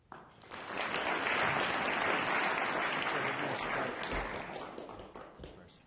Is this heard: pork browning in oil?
no